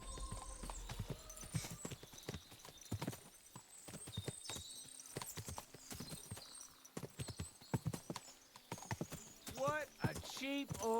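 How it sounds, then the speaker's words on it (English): Horses in Kingdom Come: Deliverance II clop along with irregular hoof strikes on hard ground, close and crisp, with people talking over them and a whinny near the end. "What a lot of horses! They must have cost a fortune."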